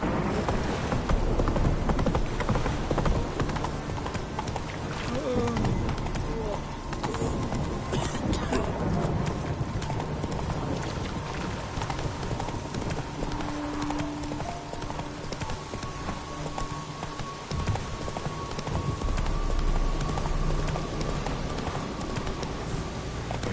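Horse hooves clip-clop steadily and close up throughout a ride, a continuous rhythmic clatter with an occasional faint neigh and some background ambience.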